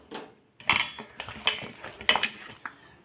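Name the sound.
mixing chicken pieces with salt and turmeric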